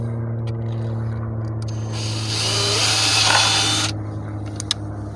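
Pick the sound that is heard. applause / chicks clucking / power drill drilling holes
power drill drilling holes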